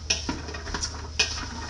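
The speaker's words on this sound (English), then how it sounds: "So keep continuing to saute that." Onion, carrot and parsnip sautéing in a pot for Hungarian cauliflower soup, a spoon scraping and knocking in a few quick strokes over a soft, steady sizzle.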